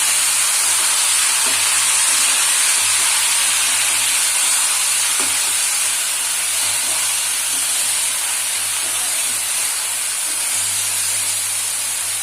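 Potato pieces frying in a pan are stirred through hot oil, giving a steady, loud hiss and sizzle with faint scraping ticks, no voices.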